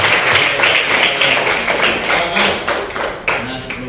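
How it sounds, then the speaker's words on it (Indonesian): A sixth-grade class learning basic artificial intelligence claps for everyone, close and loud with uneven slaps and a few thumps mixed in over the short burst. "Silakan kita tepuk tangan buat semuanya."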